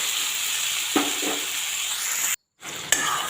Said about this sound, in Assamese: আৰু এতিয়া আলুখিনি লৰাই লৰাই অকণমান সিজিবলৈ দিওঁ।